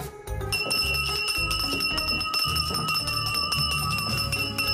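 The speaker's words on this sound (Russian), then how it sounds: "Вот и по тебе зазвонил колокол." A bell rings out with bright, sustained metallic tones that ring and overlap, struck several times in a steady rhythm, close and clear.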